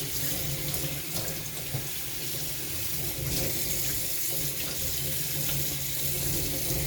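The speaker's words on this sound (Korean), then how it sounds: "흐르는 물에 상태에 이렇게 깨끗하게 헹궈 주세요." Tap water runs steadily into a sink as dried pollack is rinsed under the stream, a soft continuous splash with no talking.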